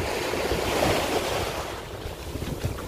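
Sea waves breaking on Malapascua beach in the Philippines, a steady close wash of surf mixed with gusting wind noise on the microphone.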